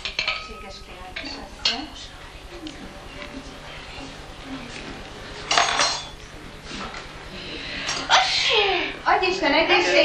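Sneeze by a woman performing as a king in a kindergarten carnival play, a sharp burst amid clinking dishes and cutlery at a breakfast scene, with people talking throughout.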